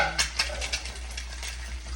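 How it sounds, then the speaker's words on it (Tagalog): Eggs stirred in a frying pan give a few soft scrapes and taps over a quiet sizzle and a low steady hum, close and brief, with no talking. "Tapos, haluin natin ito mga mamshies."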